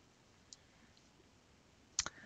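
A mouse button clicks on an OK button in software, one sharp click near the end followed by a couple of softer ticks, otherwise quiet.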